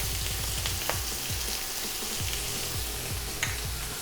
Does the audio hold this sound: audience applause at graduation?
no